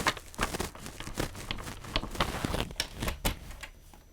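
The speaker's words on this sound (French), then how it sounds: "je vais marquer un pli" Scrapbooking paper being folded and creased by hand to mark a fold, a quiet run of close crinkles and sharp papery crunches in quick irregular bursts, with no talking.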